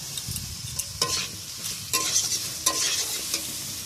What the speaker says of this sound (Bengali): এবার একটু কষিয়ে নেব হলুদটা দেব জিরার গুঁড়ো